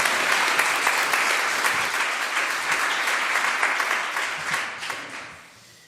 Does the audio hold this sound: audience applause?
yes